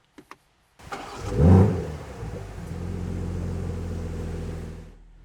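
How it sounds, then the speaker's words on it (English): A couple of clicks, then a 2023 BMW M340i xDrive in Sport Plus mode starts up with a quick rising rev that settles into a steady, throaty idle close by. "listen to what this exhaust sounds like"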